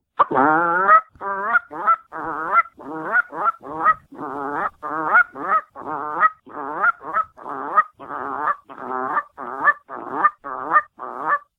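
A voice imitates a Canada goose call, a steady run of about twenty sharp, nasal honks in a regular rhythm. The calls are loud, close and alone, with short gaps between them.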